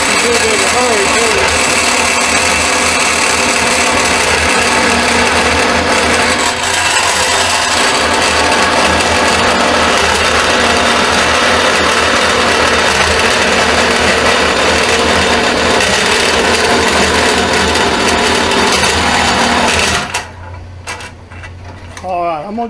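A coarse power saw blade cuts thin material in a workshop, a loud steady grinding whine running continuously for about twenty seconds before stopping abruptly into quieter shop noise.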